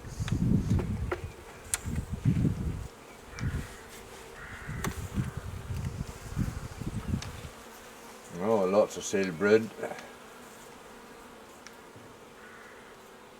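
Honeybees hum around an opened spring hive during an inspection, their buzz rising and falling close by, while a person speaks intermittently over it.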